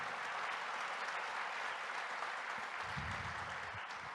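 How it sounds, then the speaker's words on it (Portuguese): A church congregation applauding during a sermon: dense, steady clapping fills the whole stretch at an even level, with a few heavier low thumps toward the end. "Aplauda o nome que é sobre todo nome"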